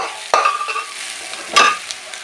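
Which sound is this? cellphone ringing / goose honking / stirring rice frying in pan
stirring rice frying in pan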